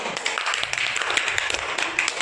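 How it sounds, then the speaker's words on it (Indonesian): Classroom applause after a student's correct answer in a microteaching lesson, a faint, dense patter of many small claps lasting a couple of seconds. "Bisa tepuk tangan semuanya"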